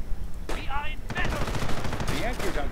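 Machine-gun bursts in a World War II real-time strategy game come as rapid rattling volleys that repeat across the clip alongside other battle noise. Commentary talk runs underneath.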